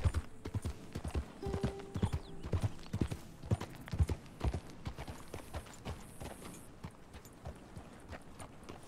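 Horse hooves clip-clopping along a trail in Red Dead Redemption 2, in a steady walking rhythm, close and clear, with a faint tonal hum in the background.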